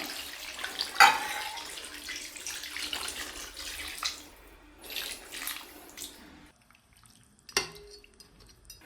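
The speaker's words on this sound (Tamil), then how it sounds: "ஸோ நம்ம ஒரு சொம்பு தண்ணி ஊற்றிக்கலாம்." Water pours from a jug into a pot of country chicken curry being cooked as varuval, a close splashing rush with a few metal clinks, trailing off into quiet after several seconds.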